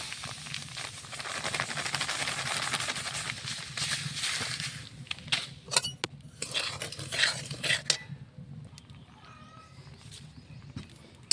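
Semolina is stirred and roasted in a wok over a stove, producing a steady dry scraping and rustling, with scattered spoon clicks against the pan. It is close but faint, with no talking.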